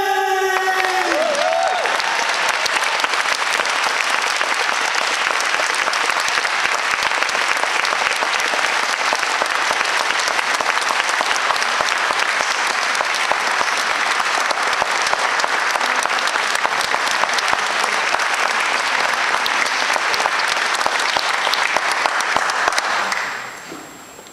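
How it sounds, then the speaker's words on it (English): A large audience at the Language Perfect World Championships launch in Melbourne applauds and cheers for language champion Miss Jean Lee, a loud, dense, steady wash of clapping lasting over twenty seconds before cutting off abruptly. "Let's have a huge round of applause for the wonderful Miss Jean Lee!"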